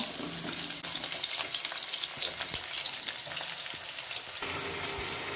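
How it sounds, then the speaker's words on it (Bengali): Steady crackling sizzle of chicken pakoras frying in hot oil, with occasional stirring scrapes and pops, no voices. "আমি সেমভাবে সমস্ত মাংসটা আমি ভেজে নেব"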